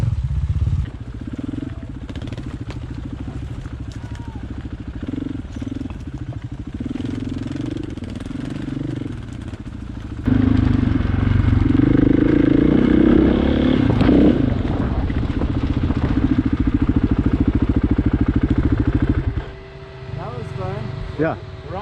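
Dual sport dirt bikes ride slowly through desert ravines, their engines a continuous loud rumble and drone, up close and steady, growing heavier midway and easing briefly near the end.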